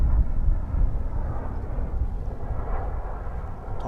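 A jet airliner coming in to land at Dallas-Fort Worth airport, a steady broad low roar that holds at an even loudness throughout, with no voices over it.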